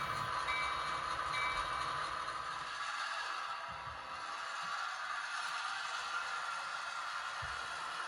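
SW1500 switcher locomotive number 1502 of the ABC Railway coming to life at Brittian Yard for a CSX transfer run, a steady low diesel rumble with rattling and scraping, heard from moderate distance with no talk.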